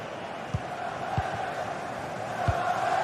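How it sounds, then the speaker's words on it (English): A football stadium crowd roars in a sustained, dense wash of noise, urging their side on in search of an equaliser, with a few sharper shouts and thumps poking through the steady din. "Well, just listen to this crowd."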